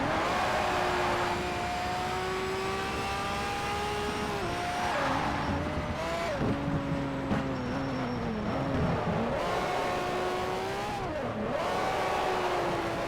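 Race car engine in Need for Speed: Shift on PS3, droning steadily with rising and falling revs through gear shifts, plus brief tire squeals as the car nearly spins out on a corner under too much power, loud and continuous with no talk.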